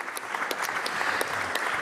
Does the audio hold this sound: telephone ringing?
no